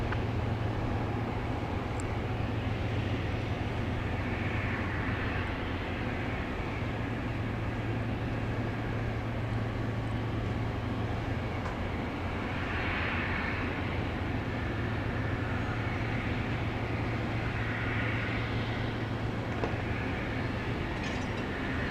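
A Boeing 717 airliner at Dallas Love Field rumbles as a steady, broad roar that holds for a long stretch, moderately loud and unbroken, with no voices.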